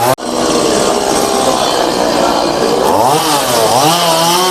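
A chainsaw runs loud and steady while cutting a large oud tree log on a plantation in Kerala, its engine holding a constant roar with slight pitch dips near the end as the blade works through the wood.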